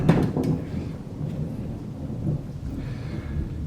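Thunder rumbles low and heavy from a storm outdoors, with a stronger roll at the start fading into a distant, continuous grumble and soft rain.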